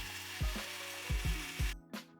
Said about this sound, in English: Next, I'll use a 5mm drill bit to remove the rivet.